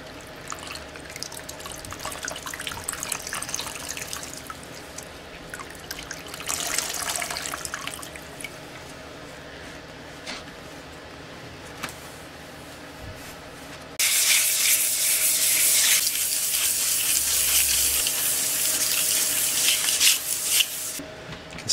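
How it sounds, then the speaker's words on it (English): Warm water and a wet rag working over the sanded surface of a small PC case, giving a running wash of water and rubbing that grows louder and denser partway through, without any voices. "we're gonna do a little bit of a wet sand"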